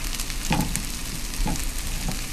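Tortilla frying in hot oil in a pan while green chile chicken enchiladas are made, a steady close crackling sizzle with small bursts of spatter running throughout.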